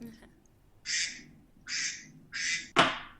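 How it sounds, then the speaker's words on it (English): A phone ringtone of synthetic duck quacks, three short quacks followed by a louder fourth, close by with a faint background hum. "That's my cell phone quacking."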